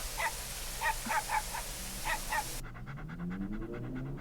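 An animated dog pants in quick rhythmic bursts, then the scene cuts to a lower, different background.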